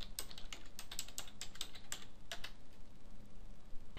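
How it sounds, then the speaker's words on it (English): A web address typed on a computer keyboard, heard as a run of quiet, evenly spaced keystrokes over steady background hiss that stop partway through, leaving only the faint hum without any speech. "I am going to actually type in signin.infusionsoft.com."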